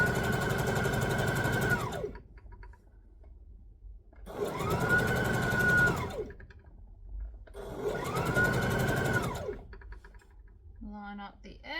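A sewing machine stitches a lap quilt in three long runs of roughly two seconds each, separated by quiet pauses, with a brief voice near the end.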